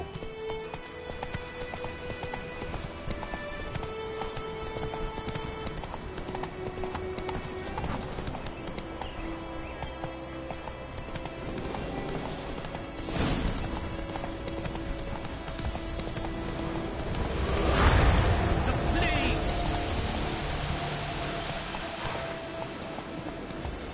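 Roach the horse gallops in The Witcher 3, with continuous rhythmic clip-clop hoofbeats running through the whole stretch alongside game ambience, and a louder swell of movement near the end.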